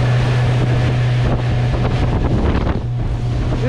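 A 2020 Honda BF75 outboard motor pushing a boat along a creek, a steady loud engine drone with a constant low hum under heavy wind rush and water noise.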